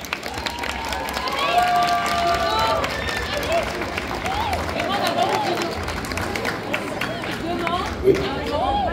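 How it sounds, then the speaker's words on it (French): Audience at a cosplay contest applauding the participants, steady clapping and light cheering from a crowd with chatter and whistle-like squeals on top, continuous throughout. "je voudrais qu'on applaudisse tous les participants du concours,"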